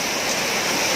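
Heavy rain pours steadily over a home with a balcony, a dense, even hiss with no break in loudness, close and continuous.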